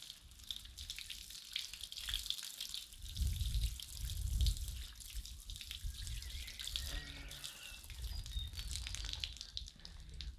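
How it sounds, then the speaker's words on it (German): Water being poured from a can onto freshly repotted pea plants in pots, a steady soft splashing and trickling with a couple of louder gushes midway, close by and alone with no talk. "So, jetzt gießen wir's an."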